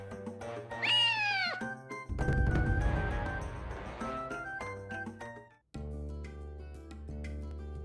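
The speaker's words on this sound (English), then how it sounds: "gonna catch the cat" A cat meows in the Naruto Ultimate Ninja Storm video game, a rising cartoonish meow, then game music and effects carry on steadily beneath.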